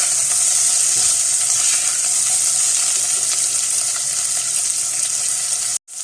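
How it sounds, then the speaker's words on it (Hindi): Onions sauté in a pan while preparing a homemade pizza sauce, giving a steady, loud sizzle and hiss that runs almost unbroken before cutting off abruptly near the end. "अब इसके अंदर प्याज शामिल कर देंगे और हल्का सा प्याज को भी हम सौते कर लेंगे।"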